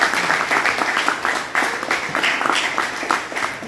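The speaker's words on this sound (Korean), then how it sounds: "다시 한번 박수 한번" An audience at a lecture gives a round of clapping, a dense, fairly close patter that rises and falls slightly in steady waves.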